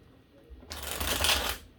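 A quick riffle of playing cards being shuffled, a brief crisp flutter that swells and fades, close by.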